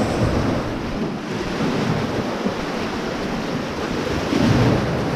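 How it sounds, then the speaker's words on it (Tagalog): Steady, roaring sea wind rushes outdoors at a fishing spot on a Guam beach, with a continuous broadband wash like surf beside it, unbroken and fairly loud throughout. "Mahangin sa labas."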